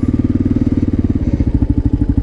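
A motorcycle ridden on a path near a river puts out a loud, close, steady pulsing engine beat with a slight change in pitch as it moves along.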